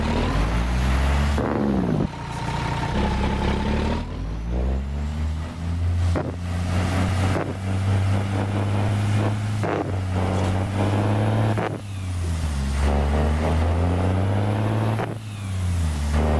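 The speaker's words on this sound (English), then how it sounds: "this is the Cummins um, ISM 835 horsepower heavy duty" Peterbilt 389 truck with a Cummins ISM 835 horsepower heavy-duty engine driving, a deep loud engine drone rising and falling through gear changes, with wind buffeting, close and continuous.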